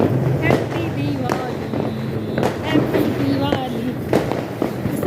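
Diwali firecrackers crackle and pop at night amid a busy outdoor celebration, with sharp bursts scattered throughout and people talking over them.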